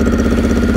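A quad bike fitted with a Honda CBR 600 engine and carburetors runs at a steady, loud idle close by, its continuous low throbbing drone holding even for the whole moment.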